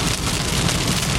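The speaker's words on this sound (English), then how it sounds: "I'm getting into some very heavy rain, some very big drops." Heavy Florida storm rain with very big drops pounding down hard and close, a dense continuous roar of drops hitting a surface.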